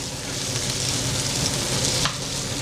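Chicken gizzards frying in a pan with ginger and bay leaves give a steady, close sizzle with faint stirring throughout.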